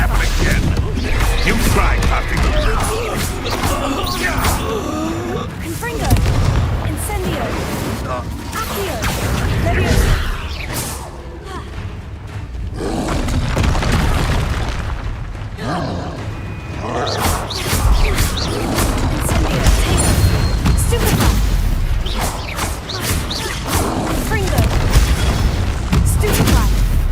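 Fire-spell explosions from the Hogwarts Legacy video game boom and crash again and again amid combat whooshes and impacts, forming a dense, loud, continuous barrage.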